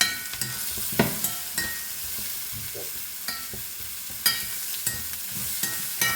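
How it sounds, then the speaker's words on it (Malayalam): Ridge gourd stir-fry being stirred in coconut oil in a pan, with a constant sizzle broken by repeated scraping strokes of a spatula at a steady, unhurried pace, close by and with no talk. "നന്നായിട്ട് ഇളക്കാം."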